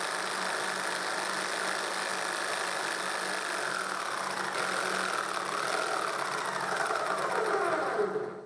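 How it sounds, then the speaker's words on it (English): A jigsaw on a homemade jigsaw table cuts a slot in a plywood sheet, running as a steady, buzzing drone throughout before stopping at the end. "with the shoe against the sheet I have just cut, I cut the slot for the blade"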